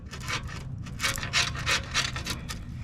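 Dried paint is scraped and chipped off an old Axelson lathe, a series of rough rasping strokes repeating in uneven bursts, close and fairly loud with no talking.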